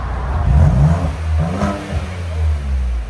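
Close by, the 2.7L EcoBoost in a muffler-deleted Ford Edge ST gives a couple of quick throttle blips that rise and fall over a low idle rumble.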